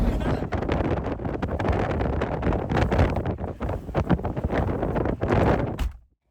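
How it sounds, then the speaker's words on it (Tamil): Strong wind on the summit of Mount Washington, New Hampshire, roars and buffets the microphone in continuous heavy gusts, loud and close, then cuts off abruptly near the end. "இப்போ நாங்கள் வந்திருக்கிற இந்த சமயத்தில் கூட காற்று பயங்கரமாக வீசுது"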